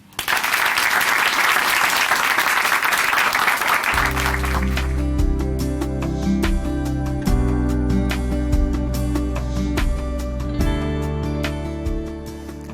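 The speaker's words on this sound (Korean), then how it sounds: "춘천한마음교회 이진솔 자매님 박수로 모십니다" Audience applause from a church congregation welcoming a guest onto a Christian broadcast stage, a dense wash of clapping for about four seconds before organ-like music enters and continues under scattered claps to the end.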